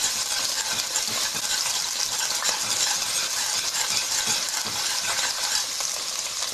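Minced garlic cloves sizzle and fry in a pan, a steady dense crackle with occasional stirring clinks, close and continuous throughout.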